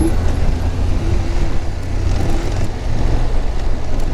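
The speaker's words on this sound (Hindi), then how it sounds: "इतना ट्रैफिक हो गया है" Heavy road traffic crawls along a mountain road to Gangotri, a steady loud rumble of car and truck engines close by, with no talk.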